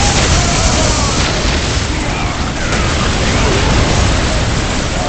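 A loud, sustained explosion roars in the Warhammer 40K Soulstorm strategy game, a dense rumbling blast filling the whole stretch without pause.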